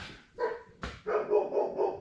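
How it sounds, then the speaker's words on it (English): Farm dogs barking, three or four sharp barks in quick succession at close to moderate distance, alone with no voices. "we're going to be interrupted by the dogs"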